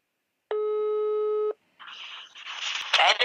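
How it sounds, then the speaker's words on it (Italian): An outgoing telephone call gives one steady ringback tone lasting about a second, followed by faint rustling and handling noise. "Squillare squilla."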